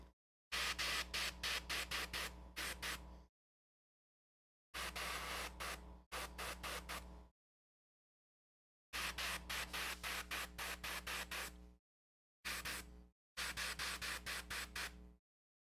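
An airbrush sprays in short hissing bursts separated by clear silences, several trigger pulls in a stuttering rhythm, close and crisp, without talk.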